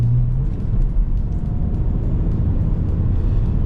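An Alfa Romeo Brera 3.2L V6 JTS Q4 is driven on the road, its engine a smooth, steady low drone heard from inside the car with no talking.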